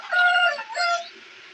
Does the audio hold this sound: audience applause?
no